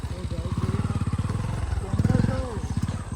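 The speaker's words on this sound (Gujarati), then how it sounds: "ફટફટ બાઈક જો." A motorcycle engine putters close by with a fast, steady pulsing beat that rises slightly in the middle, while people chatter over it.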